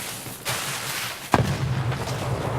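A fragmentation grenade explodes in Escape from Tarkov on the Customs map, one sharp blast followed by a sustained rumbling tail over steady background noise.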